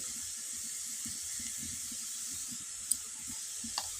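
Dried red chili powder frying in hot oil for an egg curry, giving a steady, close sizzling hiss throughout with a couple of faint clicks near the end and no talking.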